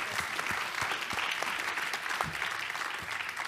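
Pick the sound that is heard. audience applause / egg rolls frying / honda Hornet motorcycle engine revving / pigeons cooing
audience applause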